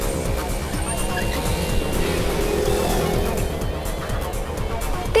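A car speeding along in a movie chase scene, its engine droning and tires rumbling steadily with a continuous roar that rises slightly toward the end, no voices over it.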